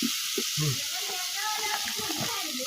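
Spices being sautéed in a pan for a snakehead fish curry in a Bangladeshi village kitchen, a steady broadband sizzle with low scraping stirs, while a voice speaks over it.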